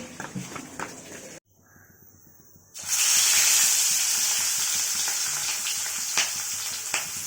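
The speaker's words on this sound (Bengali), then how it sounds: "এরপর আমি মাছটা ভেজে নিচ্ছি" Fish frying in a pan at home gives a loud, steady sizzle that starts suddenly after a short quiet gap and carries on strongly to the end, with no talk.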